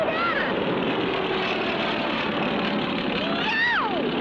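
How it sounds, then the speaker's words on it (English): A cartoon airplane roars past very close with a steady droning engine and a rising then falling whine near the end, continuous and loud. "It's a plane coming straight at"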